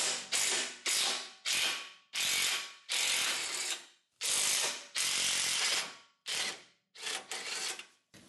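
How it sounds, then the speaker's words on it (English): Half-inch drive ratchet turning a 17 mm ball joint nut, about ten loud, close clicking strokes in a steady rhythm, each a burst of ratcheting separated by short pauses, with no talking. "This will obviously work with hand tools, breaker bar, or just a 1/2 inch drive ratchet should work totally fine."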